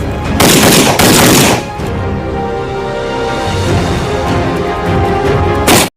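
Commandos fire weapons during a firing drill, with a loud burst of rapid shots at the start, a quieter rumbling stretch after it, and another short sharp burst near the end.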